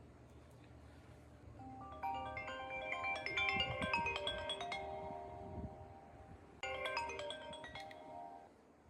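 AI smart glasses play a melodic electronic ringtone for an incoming phone call. A bright chiming phrase sounds close and clear, pauses briefly, then starts again, with no talk.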